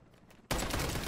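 Sustained LMG gunfire in Call of Duty MW3 bursts in loud and dense at about the halfway mark, a continuous rattling barrage after a quieter stretch of game ambience.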